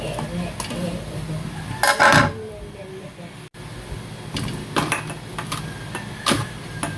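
Star anise, cinnamon bark, ginger and onion drop into a cooking pot with close clattering and knocks against metal, several distinct clinks spread across the moment, alongside a speaking voice.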